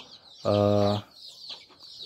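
A single chicken at a small poultry farm gives one short, loud, tonal cluck, followed by faint rustling and quieter farmyard sounds.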